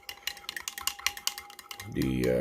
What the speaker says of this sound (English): Then you give this a stir.